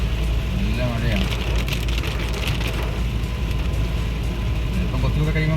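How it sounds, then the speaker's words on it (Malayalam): Heavy rain pounds the outside of a car on a night drive from Haripad to Thiruvananthapuram, with wipers running at full speed. The dense, steady drumming hiss stays loud and unbroken throughout, with the low rumble of the moving car beneath it. "നല്ല മഴ എന്ന് പറഞ്ഞാൽ നല്ല മഴ, നല്ല അടിപൊളി മഴയാണ്."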